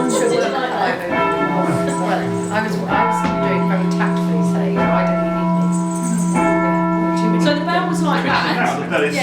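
Church bells of St Laurence-in-Reading tower ring loudly and continuously with rich sustained tones and overlapping strikes, close and dominant throughout.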